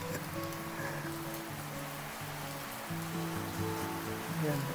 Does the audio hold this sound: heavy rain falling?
yes